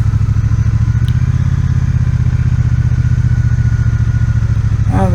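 Steady, loud rumble of a Triumph Bonneville T120 motorcycle engine while riding, a continuous throbbing drone with faint clatter and no talk.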